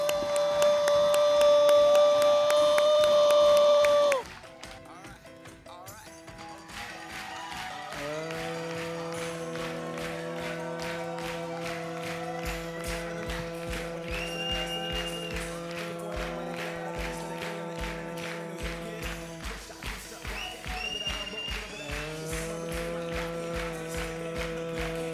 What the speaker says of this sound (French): Je vous demande de faire un tonnerre d'applaudissements pour Jason Gerbert.